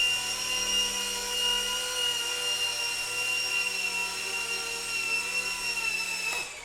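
An MD500 Hughes RC model helicopter whines steadily in its landing approach, a loud, even electric-motor hum with rotor buzz that holds for several seconds before dropping off abruptly at the end as the motor cuts.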